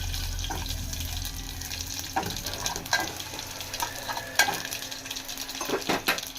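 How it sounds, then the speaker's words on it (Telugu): Mustard seeds, cumin and crushed garlic dropped into hot oil for tempering in a home kitchen, sizzling steadily with scattered pops and sharp crackles and occasional stirring clinks, close and fairly loud. "ఆయిల్ బాగా హీట్ అయింది ఫ్రెండ్స్. ఇందులోనే నేను ఆవాలు, జీలకర్ర, దంచుకున్న 5-6 వెల్లుల్లి రెబ్బలు వేసుకుంటున్నాను."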